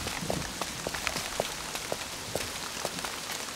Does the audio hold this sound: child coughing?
no